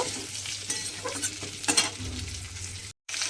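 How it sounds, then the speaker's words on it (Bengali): Potatoes frying with onions in a pan, a steady close sizzle broken by stirring scrapes, with a short silent gap near the end. "পেঁয়াজের সঙ্গে আলুটা দিয়েও একটু ভেজে নেব"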